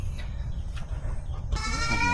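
A single goat on a farm lets out a loud, wavering bleat near the end, preceded by low rumbling background noise; the goat is a Boer and Anglo cross.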